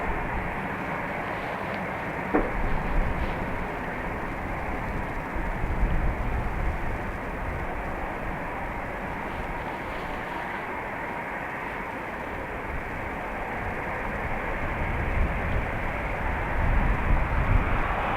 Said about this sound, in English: we bring Dean, just so his screams can drown out the engine noise